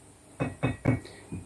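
A dealer-original motorcycle cylinder is tapped four times in quick, uneven succession, giving short, close knocks with a light, tinny, hollow ring.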